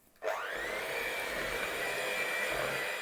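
Chocolate cream made with butter, cream cheese and unboiled condensed milk being whipped: after a brief quiet moment, a loud, steady motor whir starts and runs without a break.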